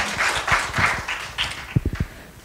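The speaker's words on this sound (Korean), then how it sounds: "박수 부탁드립니다." A small audience in a school presentation hall gives brief, sparse applause for a student presenter, a few scattered claps building and then fading out.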